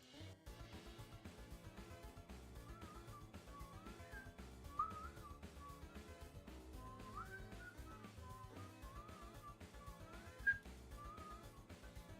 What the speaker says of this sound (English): Wow, I cannot whistle those pitches and it sounds like buns.